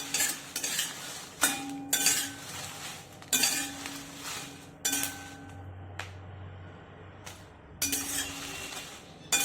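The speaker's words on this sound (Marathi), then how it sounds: "गॅसची फ्लेम लो ठेवायचे आणि हिला सतत मिक्स करत भाजून घ्यायचे" Dried bedgi chillies dry-roast in a pan on a low flame, and a utensil scrapes and clinks against the pan in repeated, uneven strokes at close range, without speech.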